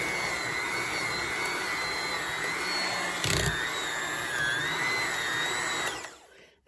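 An electric mixer whirs steadily through thick Basque cheesecake batter in a bowl, a continuous close motor drone with one brief louder knock midway before it cuts off at the end.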